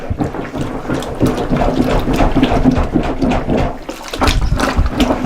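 Soapy water sloshes and churns in a steady rhythm of repeated plunges as cloth diapers are hand washed, close and fairly loud, with no voices.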